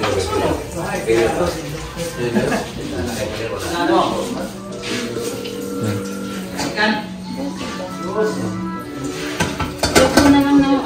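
Pots and utensils clattering while beef cooks in a home kitchen, scattered clinks and scrapes under frequent talking voices, with a louder burst of clanks near the end.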